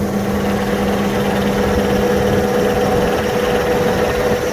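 A heavy farm tractor's engine runs steadily while backing up to a grain bag, a loud continuous low droning hum with a steady mid-pitched tone and no voices over it.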